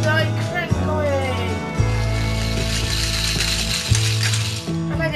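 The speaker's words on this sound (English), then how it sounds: "Now put in the washing machine motor like that, you see, and I crank away." A small hand-cranked shredder fitted with a washing machine motor grinds and clicks through its gears, loud and close, with repeated ratcheting and a steady mechanical hum under someone talking.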